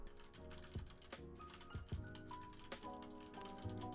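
Someone typing on a computer keyboard close to the microphone, a steady run of soft clicks and key taps with a few louder thumps, and no voice over it.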